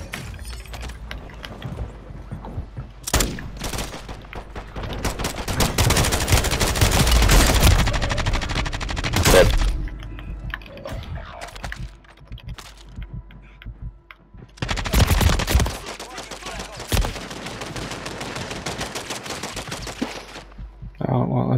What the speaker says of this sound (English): I did shoot him in the face with an LMG